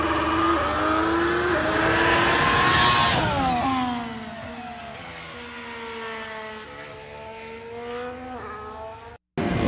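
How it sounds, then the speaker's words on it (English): A Ferrari Formula 1 car runs on a wet track during preseason testing. Its high engine note swells loudly, then drops and sweeps through shifting pitches as it passes, with no talking. "We got a Ferrari here running in the rain. Let's take a listen at this Ferrari."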